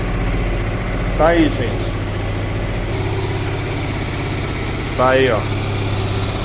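Rebuilt Mirage 250 motorcycle engine idling steadily and loud up close, a continuous low rumble while someone talks briefly over it.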